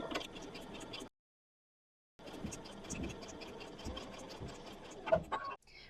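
A sewing machine with an open toe foot and a 1.4 stitch length runs across a quilt line, giving a quiet, rapid ticking whir that stops for about a second, then resumes and runs steadily to the end.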